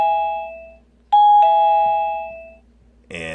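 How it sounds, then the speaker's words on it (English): A Tektalk wireless doorbell chime rings nearby with a clear two-tone ding-dong that rings out and decays, then a fresh chime begins at the end. "Just hit the button."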